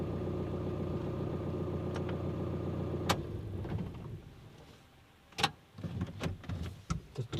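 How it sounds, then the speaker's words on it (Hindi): An Intra V30 engine idles with a steady low hum, then a click sounds and the engine winds down and falls silent. Scattered sharp clicks and knocks follow, close by, with no talk. "तो चलिए गाड़ी इंजन बंद कर देते हैं"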